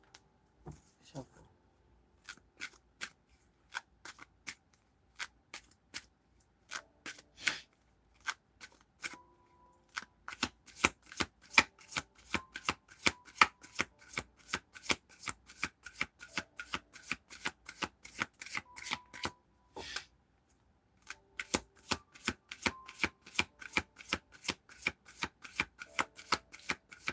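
A deck of tarot cards is shuffled over and over in rapid bursts of crisp riffling clicks, broken by short pauses. The sound is close and fairly quiet, with no talk.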